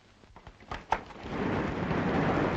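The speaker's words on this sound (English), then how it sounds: "I wonder if it stopped raining." A few sharp crackles give way to a rising, steady hiss of heavy rain, with a low rumble underneath like distant thunder.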